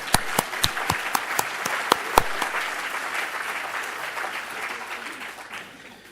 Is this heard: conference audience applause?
yes